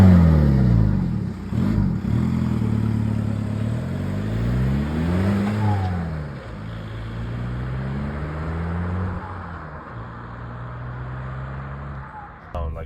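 A turbocharged 1.9 car engine revs through its exhaust, a deep, loud drone rising and falling in pitch over several throttle blips, close and steady throughout.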